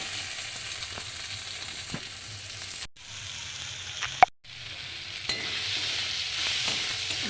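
Chopped tomato and ginger paste fry in oil in a pan, giving a steady close sizzle broken by two brief silent gaps and a few sharp clicks.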